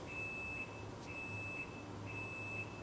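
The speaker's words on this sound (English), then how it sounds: "The washing machine is annoyed, apparently. Stop beeping." Repeated electronic beeps from a washing machine, three steady high tones spaced about a second apart over a quiet background hum.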